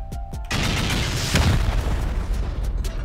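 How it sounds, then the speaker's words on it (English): Rockets slam into a base foundation during a solo raid in a survival video game, a deep booming blast after a couple of brief clicks, its rumble rolling on with crackling debris. "Send some rockets down here."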